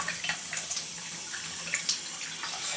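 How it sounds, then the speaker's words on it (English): Hot water running and spattering from a leaking Delta shower faucet with a worn cartridge, a steady faint hiss of flow with small irregular splashes close by. "So this is leaking, it is the hot water which is leaking."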